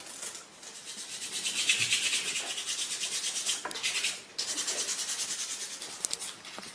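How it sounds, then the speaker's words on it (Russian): Coarse 100-grit sandpaper rubs steadily over a handmade khomus jaw harp in quick back-and-forth strokes, close and fairly loud with a brief pause midway. "Начинаем с самой крупной наждачечки, номер 100."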